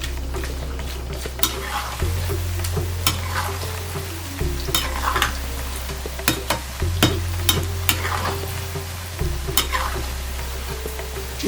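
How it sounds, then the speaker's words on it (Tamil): Plantain pieces roasting in hot oil with onion, tomato and ginger-garlic paste sizzle loudly and continuously, with repeated scraping stir strokes and utensil clinks, no talk. "இப்போது நம்ம போட்ட வாழைக்காய் நல்லா ரோஸ்ட் ஆகிடுது."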